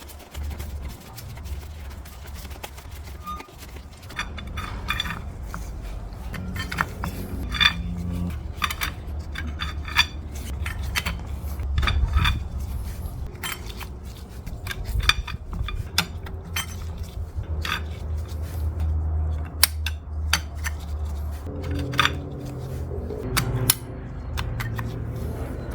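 Metal clutch plates for a 1988 Suzuki GSX-R 750 clink and scrape as they are handled and slid into place, with sharp irregular taps and clatters close up and no talk.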